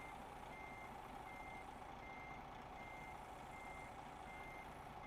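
Steady electronic reversing beeps from a truck in a truck-driving video game, repeating at an even rhythm over a low engine hum, with no talking.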